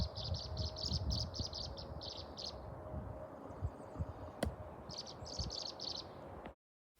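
Birds nesting at a pond give clusters of quick, high chirps in two separate bursts, fairly faint over a low outdoor rumble, with a single sharp click between them before the sound cuts to silence.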